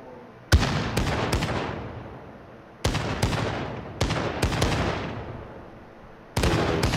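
Kar98K bolt-action sniper rifle shots in Call of Duty: Modern Warfare, loud sharp cracks in clusters of two or three, each trailing off in a long echoing decay, with pauses between the groups.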